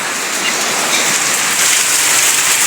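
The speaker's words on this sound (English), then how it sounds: "as y'all can see, the rain is falling outside." Rain pours steadily outside during a daytime downpour in the rainy season, a loud, dense, continuous hiss of drops hitting surfaces, close and unbroken with no voices.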